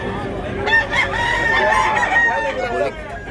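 Roosters crow at a busy chicken market in Tabunok, Talisay, Cebu, with overlapping loud cock-a-doodle-doo calls and clucking close by over crowd noise and some talk.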